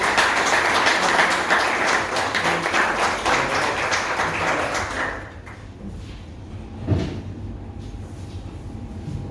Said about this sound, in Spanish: le voy a pedir un fuerte aplauso para invitarlo a Gabriel